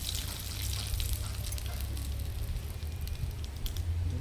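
Whole cumin seeds sizzle in hot oil for a prawn and coconut curry, a steady loud crackling hiss with a low rumble beneath, continuous throughout with no talk.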